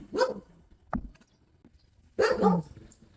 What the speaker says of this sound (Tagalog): At meron silang isang aso dito